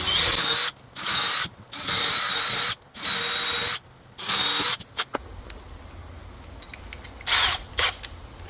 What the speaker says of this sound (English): when I'm drilling these out, I'm using a drill bit